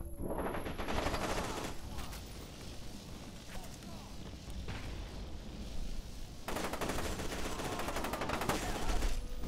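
Rapid automatic gunfire from F.E.A.R. 2 rattles in dense bursts, with sharp shots clustered at the start and again near the end, over a busy combat backdrop.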